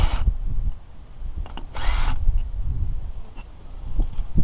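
A half-inch socket takes the cap off the gearbox of a Valley center pivot irrigator, giving short, loud bursts of mechanical whirring and metal rasping separated by brief pauses, up close.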